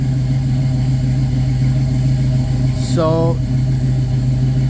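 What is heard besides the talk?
1966 Pontiac Catalina engine idling with Sniper injection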